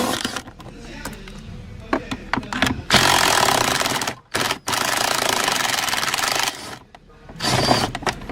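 A cordless electric drill or driver backs out 10mm screws from a car's gear shifter, whirring in several sustained bursts of a few seconds each with short stops between, close and loud over a quieter workshop background.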